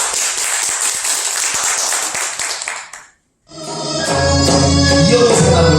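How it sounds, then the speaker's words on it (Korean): Audience at a live traditional Korean singing performance claps briskly for about three seconds, then a short silence gives way to loud instrumental music starting up. "큰 박수 부탁드리겠습니다."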